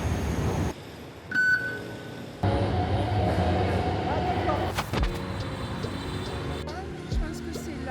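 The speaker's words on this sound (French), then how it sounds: "On va prendre le métro." Rumbling metro train noise in a busy Hanoi station, with a brief beep and people talking around it, fairly loud and continuous.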